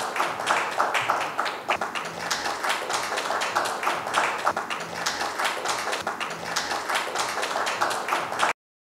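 Sustained audience applause fills an award felicitation ceremony in Thane, a steady dense patter of many hands clapping at close range for the whole stretch, with no voices over it.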